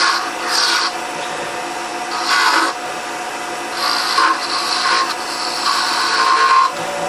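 A wooden acorn ornament cap being shaped on a lathe with turning cuts: a steady rasping scrape broken by several louder, brighter cutting passes, close up with no talking.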